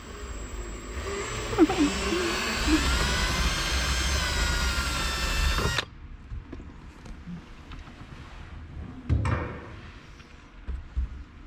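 A power drill whines loudly for several seconds with rising pitch while drilling during a Subaru horn upgrade, then stops abruptly, followed by a few faint knocks and handling noises.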